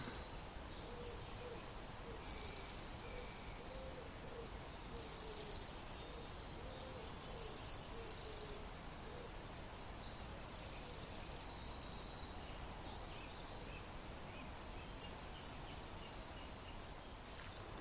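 Birds calling outdoors along a rural bridleway, with repeated bright chirps over a faint steady insect-like hum and a soft low hooting in the background.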